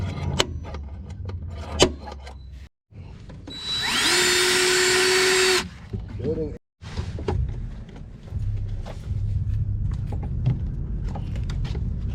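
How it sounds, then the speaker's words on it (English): A power drill bores a hole for a rivet nut in a car engine bay, whining loudly and steadily for about two seconds amid scattered clanks and handling noises from nearby work. "what we gotta do is drill our hole"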